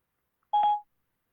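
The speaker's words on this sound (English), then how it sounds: "I'm just going to call this person back." A single short touch-tone beep as a phone number is dialed to place a call, clear and isolated in silence, with no voices.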